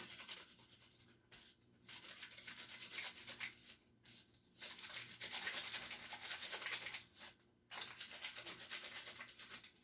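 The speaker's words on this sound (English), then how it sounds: "we're just going to color in the cupcake liner." Quiet, close scratchy rubbing from a green permanent marker coloring a paper cupcake liner, in rough strokes separated by short silent gaps.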